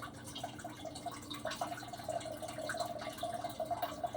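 Swanson chicken broth is poured from a carton into a pan, giving a faint, soft, gurgling trickle of liquid that runs steadily with small splashes, quiet and close.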